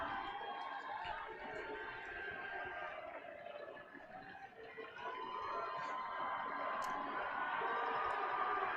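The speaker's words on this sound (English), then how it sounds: "Crowd making noise on the West De Pere side. They got thunder sticks in the crowd, orange thunder sticks." Football stadium crowd at a state high school championship game, a distant, sustained roar with faint rattling and clacking, fairly soft and continuous, rising slightly toward the end, with chatter mixed in.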